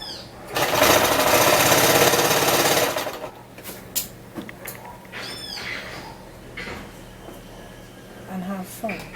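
A domestic sewing machine runs a zigzag stitch along the bare edge of a dress fabric in one loud, steady burst lasting a couple of seconds, then stops, leaving quieter room noise, soft handling clatter and occasional talk.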